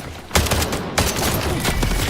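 Video game gunfire bursts out in a dense, continuous volley with two sharp louder onsets, sustained rapid shots filling the short stretch with no talk over it.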